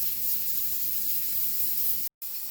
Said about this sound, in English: Hear that pressure cooker?